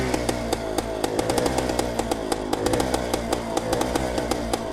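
A 1974 Suzuki TS250 two-stroke motorcycle engine buzzes steadily and close, with sharp regular ticking pops riding over its rasping drone.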